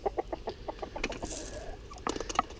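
Cockerels clucking inside a poultry shed, a run of short repeated clucks and calls close by, with busy overlapping bursts and a faint higher call near the end.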